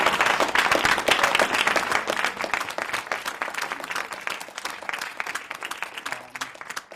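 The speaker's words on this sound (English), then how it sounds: "asking you to give them a round of applause that they can hear wherever they are" Sustained applause from a conference audience, many hands clapping densely and steadily for about seven seconds, fading slightly toward the end.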